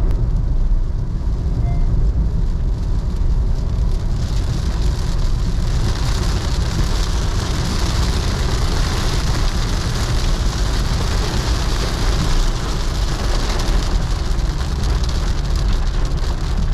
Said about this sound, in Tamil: மழை ஆக்சுவலாக சம்மந்தம் இல்லாமல் விட்டு விட்டு பெய்யுது, திடீர்னு ஸ்டாப் ஆகிடுது, திடீர்னு பயங்கரமாக பெய்யுது.